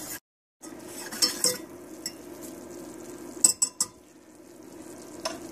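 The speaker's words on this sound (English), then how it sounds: "it's very important to cook the roux a couple minutes at a low heat" Flour-and-butter roux for béchamel stirred in a pan over low heat, a faint sizzle beneath repeated clinks and scrapes of a utensil against the pot, in small clustered bursts.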